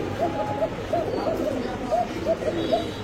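Pigeons coo in a repeated, soft rhythmic series close by, among mixed pet and racing breeds such as Racer, Damascene, Budapest, Military and Kaldam kept for sale with their chicks and eggs, over a steady low background murmur.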